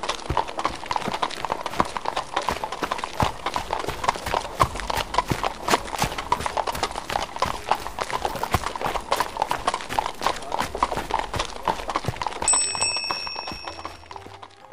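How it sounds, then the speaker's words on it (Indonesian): Horses gallop in a fast, steady clip-clop rhythm among a bustling crowd, with bells jingling throughout and hoofbeats close and dense, fading near the end. "terdengar banyak suara orang ramai, seperti sedang menunggang kuda dan berlari"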